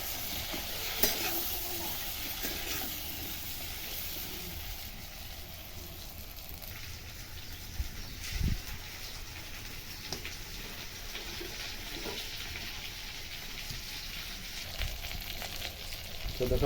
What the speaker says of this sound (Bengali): এইভাবে একটু লাড়াচাড়া করে নেবো ভালো করে পটলটাকে